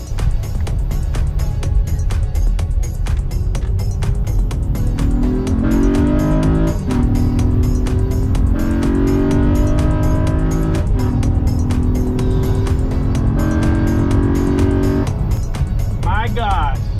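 A Honda Pilot fitted with an AEM cold air intake revs and accelerates, its loud engine note rising and falling in long sweeps from inside the cabin, with people talking over it throughout.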